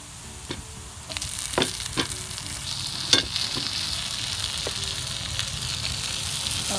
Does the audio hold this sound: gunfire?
no